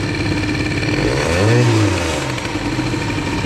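A Bidalot RF 50 WR motorcycle idles lean and runs steadily up close, rising in a brief uneven rev about halfway through before dropping back to its rough idle.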